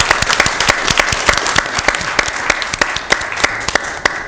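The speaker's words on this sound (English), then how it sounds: "One more round of applause?" Steady applause from a meeting audience at a public library authority session, dense clapping from many hands with sharper individual claps standing out, fairly close and loud throughout.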